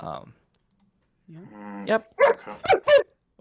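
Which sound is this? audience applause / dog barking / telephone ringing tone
dog barking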